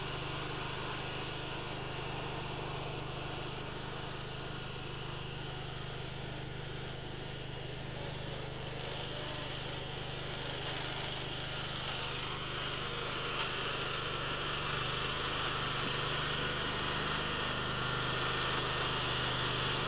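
A riding lawn mower engine drones steadily and loudly throughout, its pitch holding constant with a slight rise near the end.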